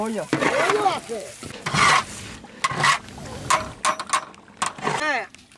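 Rice and spices fried and stirred in a pot for Bengali khichuri, giving repeated scraping, rasping stir strokes with a light sizzle, broken into uneven bursts, while voices chatter nearby.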